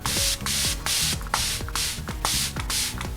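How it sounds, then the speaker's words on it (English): A quick series of about seven short, hissing fine mists of makeup setting spray from a spray bottle, close by and evenly paced. "I'm going to go ahead and add me some setting spray"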